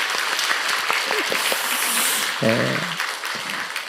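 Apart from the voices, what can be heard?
congregation applauding to welcome new members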